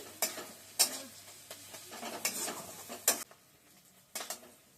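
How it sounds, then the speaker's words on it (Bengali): Dried fish curry being stirred in a pan, with scattered scraping clicks of the spoon against the metal over a soft frying sizzle, spaced irregularly and fairly close. "ভালো করে নাড়তে হবে এখন।"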